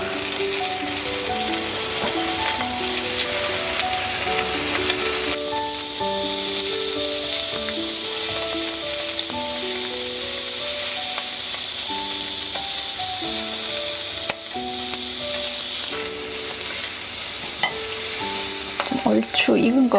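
Octopus sizzles steadily in a hot pan while being stirred, a dense continuous frying hiss with scraping, loud and close, over soft background music and no talking.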